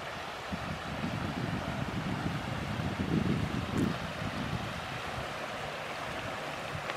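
Eagle Creek flows beneath a covered bridge near Ripley, Ohio, a steady broadband rush of moving water mixed with wind noise, continuous and moderately loud, with no voices.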